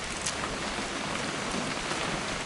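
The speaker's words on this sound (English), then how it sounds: "It's gonna rain the whole weekend," Steady rain pouring in the video game What Remains of Edith Finch, a dense continuous hiss of falling water with no breaks, even and fairly close, no voices over it.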